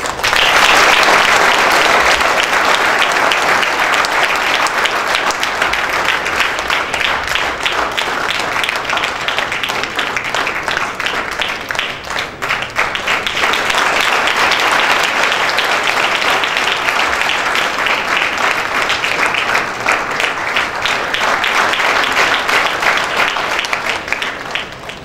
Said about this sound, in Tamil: நம்மளுடைய பலத்த கைத்தட்டலுக்கு நன்றி